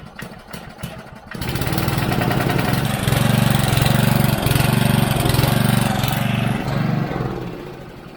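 Abandoned 1970s ride-on lawn mower coughing into life after a new solenoid is fitted, then running as a loud, steady, close engine drone with slight surges in revs, fading a little at the end.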